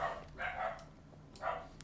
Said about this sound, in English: So my dogs are also now going crazy outside